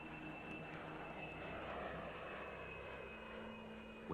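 Aircraft engine noise drones steadily and faintly as a distant plane flies overhead, a continuous low roar with a thin sustained whine above it.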